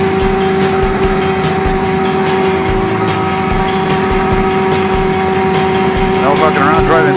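A large snow plow's engine idles nearby in a steady, continuous drone with a constant hum, staying loud throughout with no speech over it.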